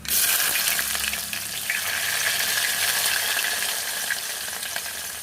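Chopped onion sizzles in hot oil for a tomato and cucumber curry, a steady, close crackling hiss that starts loud and eases slightly, with no talking.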